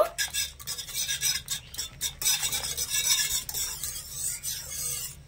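A spoon stirs a mixture of milk and milk powder for a malai topping, scraping repeatedly in quick, uneven strokes against the vessel, close and fairly soft.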